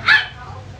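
A single sharp dog bark rings out close by and fades quickly into a quiet room hum.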